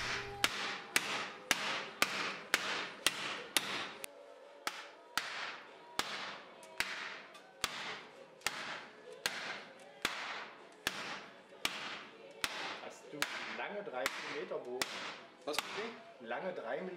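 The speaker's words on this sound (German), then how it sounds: "Auf einem Sandsack wird das Blech mit einem Holzhammer in Form getrieben." A wooden mallet drives sheet metal into shape on a sandbag while a Ford front mask is built, giving sharp, ringing blows at a steady pace of about two per second and slowing slightly toward the end.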